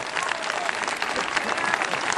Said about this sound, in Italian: Se lo merita tutto l'applauso